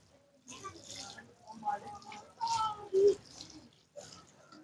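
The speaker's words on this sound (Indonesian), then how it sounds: "Maka kita siram media ini terlebih dahulu karena kondisinya kering." Water is poured onto dry planting medium while propagating vanilla plants, giving a faint trickling and splashing that rises and falls over a few seconds in a quiet setting.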